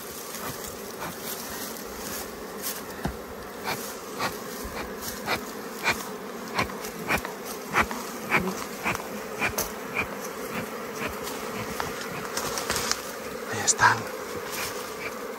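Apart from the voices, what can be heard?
bees swarming at wild honey cave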